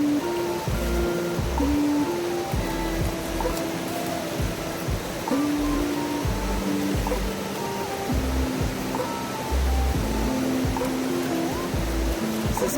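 Rapid, flooded river rushing over rocks after spring rain, a steady broadband roar of water close by with no let-up, joined by a deep low rumble and faint tonal hums.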